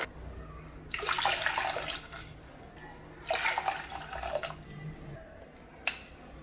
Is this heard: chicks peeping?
no